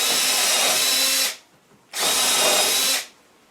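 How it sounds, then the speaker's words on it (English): A power drill drives screws into wooden sleeper boards for a wood box, two loud whirring bursts of about a second each separated by a short pause, close and alone. "And then 2 screws in each board."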